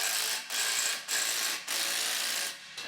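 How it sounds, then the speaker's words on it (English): A hand ratchet tightens bolts on a car differential with rapid, close, crisp clicking in several even bursts separated by brief pauses. "I'm just going to tighten these bolts and hope for the best."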